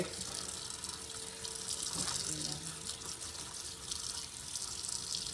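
Tap water runs steadily into a kitchen sink, filling it to soak collard greens: a continuous, quiet rushing gush throughout, with faint talk now and then.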